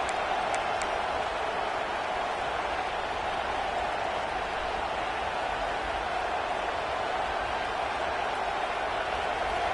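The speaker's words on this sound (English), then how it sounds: "It's early, but this crowd is fired up. Listen to this noise here." A stadium crowd at a football game roars in a steady, dense wash of noise that holds at the same level for the full stretch, with no pauses or clear individual voices.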